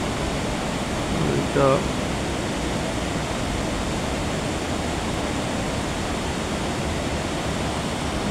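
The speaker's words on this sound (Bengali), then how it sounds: "দেখেন, আপনাদের আমরা দেখানোর চেষ্টা করতেছি যে ঝর্ণার পানি কীভাবে প্রবাহিত হচ্ছে।" Waterfall water at a lake in Kathmandu pours in a steady broadband roar, constant and fairly loud, with a brief spoken word near the start.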